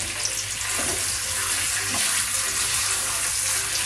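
Steak tipped into a hot pan sizzles steadily and loudly, a continuous bright hiss of meat frying throughout with no talk.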